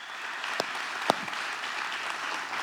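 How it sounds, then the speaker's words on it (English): A Father's Day gathering gives a round of applause, soft steady clapping from a modest group at moderate distance, with a couple of sharper individual claps standing out. "everybody give him a round of applause"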